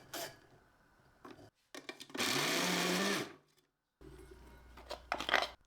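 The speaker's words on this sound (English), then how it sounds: "Blend the small shrimp." Small shrimp whirring in an electric blender, one loud steady burst of about a second amid quieter rustling and handling noises before and after.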